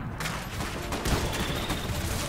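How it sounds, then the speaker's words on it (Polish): Explosive defensive charges fire in the mech strategy game Iron Harvest, a crackling burst of rapid blasts and pops spread over a couple of seconds amid dense battle noise. "Wystrzeliwujesz na niewielką odległość kilka ładunków wybuchowych, które zadają obrażenia po bliskim wrogom."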